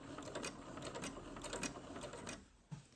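Near and fairly quiet, a sewing machine stitches fabric for puff sleeves in quick rhythmic bursts of needle clatter, stopping briefly near the end with a small thump.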